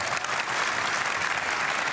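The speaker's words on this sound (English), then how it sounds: "Give a round of applause for these two" A crowd at the Gran Turismo World Series world finals gives sustained, loud, even clapping throughout, with no break.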